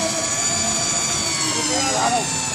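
Electric Ford 8N tractor driving, a steady high whine and hum with a continuous motor drone, fairly loud and close, with voices calling out over it.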